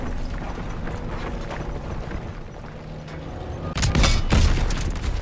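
A tank destroyed by a shell explosion in the Call of Duty WWII game: heavy battle rumble throughout, then a loud double boom near the end.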